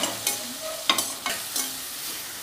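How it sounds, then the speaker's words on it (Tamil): Onions sautéing in a pan with fennel, garlic and curry leaves for a Tamil ridge gourd and prawn gravy, giving a soft steady sizzle broken by several sharper stirring scrapes, close and moderately quiet, with no talk. "இப்போ வெங்காயம் நல்லா வதங்கட்டும்."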